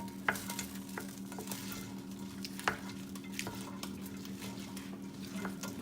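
Ingredients for Portuguese feijoada sizzle and fry in a pot while a spoon stirs, with steady close frying hiss broken by scraping clicks and knocks.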